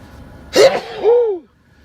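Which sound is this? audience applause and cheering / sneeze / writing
sneeze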